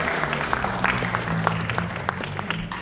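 Applause from an audience in an auditorium, steady dense clapping throughout with a faint sustained low hum beneath it.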